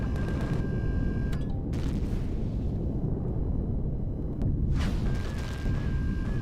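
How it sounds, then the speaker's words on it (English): Enemy gunfire and rocket blasts in Ultimate Ironman, a dense continuous roar of booms and bursts with a few sharp cracks and a faint tonal hum, loud throughout. "Holy smokes, the Zeellott are actually firing back. Is that rocket, guys?"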